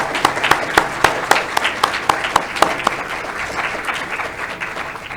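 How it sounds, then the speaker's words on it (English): At a UGA Griffin fall graduation ceremony, the audience claps for faculty and program coordinators, a steady run of crisp individual claps standing out over a wash of wider applause that slowly thins. "Let's give them a round of applause."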